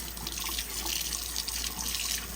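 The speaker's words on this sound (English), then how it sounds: "So see these strings? I'm gonna wash them off." Tap water running steadily over sweet potato strings being washed in a kitchen sink, a constant close splashing hiss with no voices.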